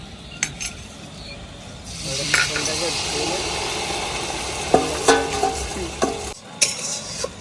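Cashew and melon seed paste stirred into hot spices frying in oil for a pabda fish curry, with a steady sizzle, scraping spoon strokes and clinks against the pan, while someone talks over the cooking.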